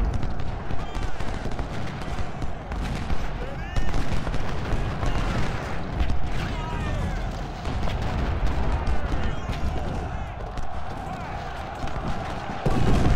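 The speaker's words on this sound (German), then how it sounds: "Kanonenfeuer." Continuous battlefield din in Ultimate General: Civil War, a Chancellorsville engagement where booming artillery and rattling musket volleys overlap steadily at a moderate level from start to finish.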